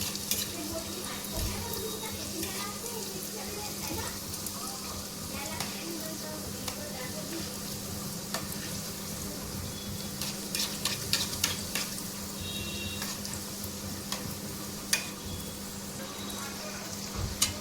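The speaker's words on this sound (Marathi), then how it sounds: "आता करंजे पण मस्त फ्राय करत आहे" Karanji deep fry in hot oil with a constant dense bubbling sizzle, occasional utensil clinks growing busier in the second half, and a steady low hum underneath, with no voices.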